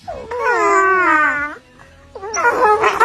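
Rottweiler whimpering softly, a drawn-out whiny vocal followed after a short pause by a second higher, rougher whine, close and clear with no other voices.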